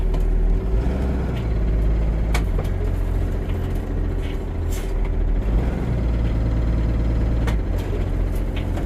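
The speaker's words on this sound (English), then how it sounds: "Put it in drive. Pull forward at no more than 5 miles an hour." A new 2024 Freightliner S2C truck engine idles and pulls forward slowly with a loud, steady diesel drone, punctuated by several short, sharp air-brake hisses and clicks, with no talking.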